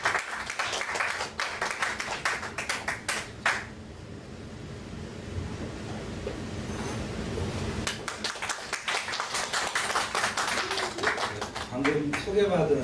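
A church congregation claps to welcome a pastor forward for a testimony, with bursts of crisp clapping at the start and near the end and a quieter stretch of room noise in between.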